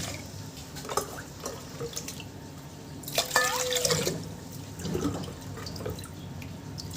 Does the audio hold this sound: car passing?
no